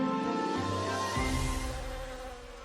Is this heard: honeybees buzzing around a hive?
yes